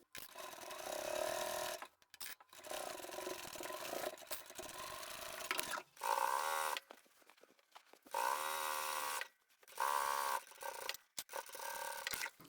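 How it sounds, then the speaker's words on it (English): A sewing machine stitches handbag fabric in several bursts of fast, buzzing running separated by short pauses, close and fairly quiet, with no talk. "can go around and sew the other side in place"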